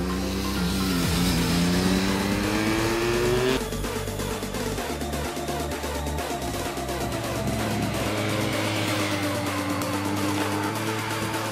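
A BMW R1200R motorcycle engine revs up to a high pitch, then drops and runs in a lower, rougher rumble, loud and close with no talking.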